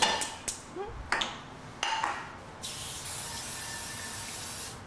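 Short bursts of hissing from an aerosol baking spray can, a few quick sprays followed by a longer steady hiss, close by and fairly quiet.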